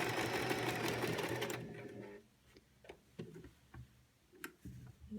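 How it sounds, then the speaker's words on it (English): A sewing machine stitches across fabric and elastic while making a cloth face mask. A loud, rapid mechanical run stops after about a second and a half, followed by scattered ticks and clicks as the fabric is handled. "bring it in the middle of each piece of fabric and sew over."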